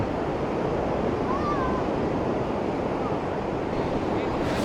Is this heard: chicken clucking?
no